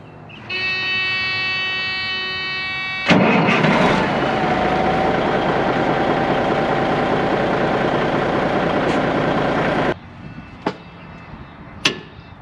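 A Freightliner FLD 120 truck, retrofitted from air start to battery start, gives a steady tonal whine, then a loud, harsh cranking roar for about seven seconds that cuts off abruptly, followed by a few sharp clicks.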